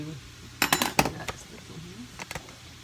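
A spoon clinks and scrapes against a bowl while spicy ranch sauce is stirred, giving a few quick clattering knocks, a pause, then two more light taps.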